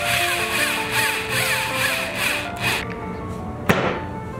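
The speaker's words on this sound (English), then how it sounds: "I'm drilling all the way through" A power drill whines steadily while driving screws through wood on a truck camper build, loud and close with wavering pitch, easing off near the end with a single sharp knock.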